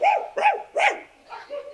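A dog barks three times in quick, evenly spaced succession, loud and close, then gives a couple of softer, lower yips trailing off.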